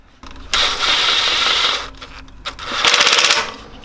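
Bolts on a Ford BA Falcon fuel injection rail are tightened, probably with a ratchet, in two rapid buzzing bursts separated by a brief pause, close and fairly loud.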